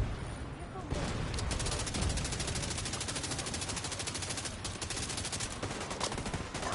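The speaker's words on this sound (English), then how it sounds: "bullets are flying everywhere" Gunfire in The Division 2 on PS5, rapid fusillades of automatic shots rattling in dense bursts throughout, loud and close, with brief gaps between volleys.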